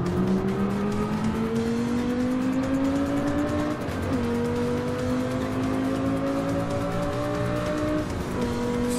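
A 2010 Lexus race car in Forza 6 Apex at Dunsfold, England, driven with a Logitech G27 wheel: a steady, loud engine drone climbing through the gears with brief shift dips, with tire noise under it and no talking.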